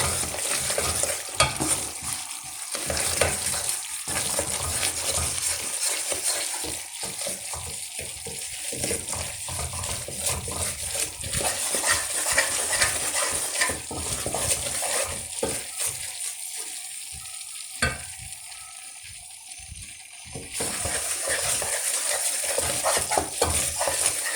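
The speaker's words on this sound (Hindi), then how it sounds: "इसको घुमाएं ताकि हर साइड से भून जाए ये।" Besan roasts in desi ghee for besan pattisa, making a long, steady sizzling hiss with the rough scrape of a spoon stirring again and again, close by, briefly easing near the end before resuming.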